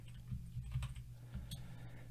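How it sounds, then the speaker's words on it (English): Soft typing on a computer keyboard during data entry, a short run of light, quick key clicks, close and quiet. "So I'll type in here gender."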